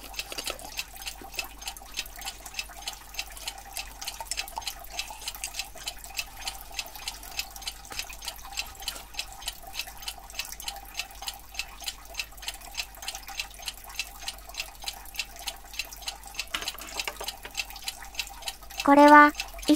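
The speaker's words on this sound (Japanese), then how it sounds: "表面の黒い部分は、二酸化マンガンなので、オキシロールで発泡します。" Hydrogen peroxide fizzing on the black manganese dioxide crust of a stone, heard as a quiet, fairly regular series of tiny drip-like pops and crackles, close up, ending with a brief louder clatter.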